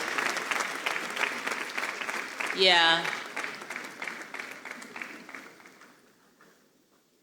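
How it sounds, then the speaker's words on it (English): An audience at a university national dialogue on tax revenue leakages applauds a speaker, steady loud clapping that carries on for several seconds, briefly overlapped by a voice, then thins and fades out toward the end. "How long the clap lasts tells me how much you enjoyed him."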